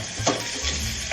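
Courgettes frying and stirred in a pan for a curry base, a steady close sizzle with a couple of brief scraping stir sounds, no talking.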